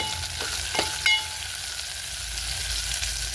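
Mustard seeds crackle in hot oil for a tempering, a close, continuous frying hiss with a few sharp pops near the start, heard alone without talking.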